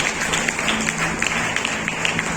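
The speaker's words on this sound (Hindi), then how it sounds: "तालियों को सुनाएं।" Audience applause at an award ceremony honouring students and teachers, a dense, steady patter of many hands clapping at close range, holding an even level through the short stretch.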